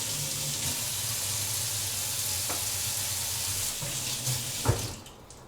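A kitchen tap runs in a steady hiss while something is rinsed under it, with a couple of brief knocks and a louder clunk near the end before the flow quiets.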